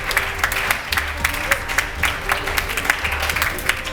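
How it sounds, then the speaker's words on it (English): Audience applause in a hall at a Nigerian education-themed event, a steady wash of many hands clapping at once, fairly loud and continuous with scattered sharper claps standing out. "And I want the audience there to really applaud these ones for me."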